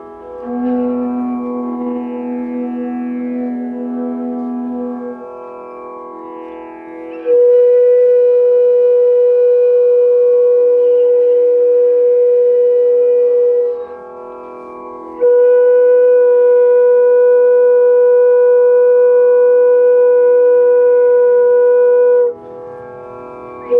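A bamboo flute plays a pancham note over a tanpura drone tuned to E: long, steady sustained tones held several seconds each, clear and loud, with brief quieter gaps between.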